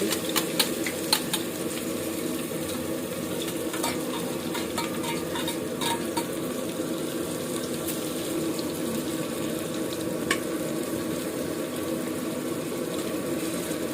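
Pieces of country goat mutton fry steadily in a pan over a wood-fired clay stove, a constant close sizzle with occasional stirring clatter and no talk.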